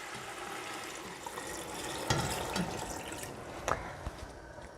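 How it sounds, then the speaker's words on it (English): Low sodium vegetable broth pours into a soup pot as a steady, fairly loud liquid rush, with a few clinks and splashes partway through and no talking. "now we're gonna add in our low sodium vegetable broth"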